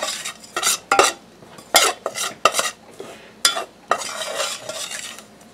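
Flour browning into a roux is stirred in a pan in a home kitchen. Close, rhythmic scraping strokes of a utensil against the pan repeat over a faint sizzle, with no talking.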